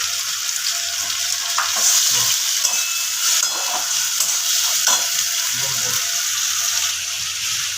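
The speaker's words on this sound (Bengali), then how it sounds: "এবারে আমি দিয়ে দেবো দু টেবিল দু টিস্পুন আদা রসুনের পেস্ট" Ginger garlic paste frying in hot oil with a green chilli for egg curry, a constant close sizzle broken by scraping stirs and light clatters of the spoon against the pan.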